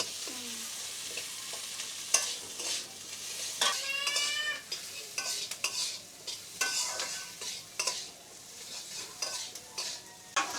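Koi fish and potatoes frying in a home kitchen pan, with a soft ongoing sizzle broken by spoon scrapes and clatter; a cat meows briefly in the background.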